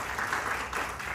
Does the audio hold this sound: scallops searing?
no